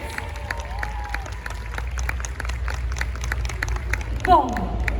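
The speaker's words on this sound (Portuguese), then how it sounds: "Palmas para eles!" Audience at an anime convention talk claps in scattered, moderately loud bursts under a lively crowd, with voices and a few cheers mixed in.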